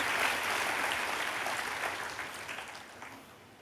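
A church congregation at a Sunday service claps for Jesus, a steady wash of many hands heard from a distance, fairly faint and slowly fading.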